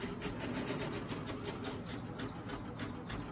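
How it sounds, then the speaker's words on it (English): A programmed embroidery sewing machine in a shop runs steadily, a fast, even mechanical whirr with a regular stitching pulse, close and continuous without talk. "she programs the sewing machine, and it does it"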